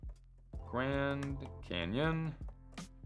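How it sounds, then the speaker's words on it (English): Keys on a computer keyboard clatter in a quick run of close, crisp clicks, partly under someone talking. "I'm gonna type in Grand Canyon"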